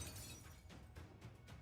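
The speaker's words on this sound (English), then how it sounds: "Sure enough, she hears the sound of shattering." A hammer swing shattering something in the game Arknights, several faint, brief crackling bursts spread across a short stretch, quiet and alone with no talking.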